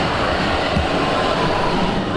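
An Oslo subway train pulls into the station with a steady, loud rumble of wheels and rail noise that fills the whole stretch without letting up.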